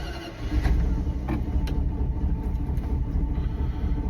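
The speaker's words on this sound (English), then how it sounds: "Sometimes she fires right up, and sometimes she don't. Like right now." A Dodge truck engine cranks with the choke on, a steady low churning rumble of the starter turning over without catching, close and continuous for several seconds.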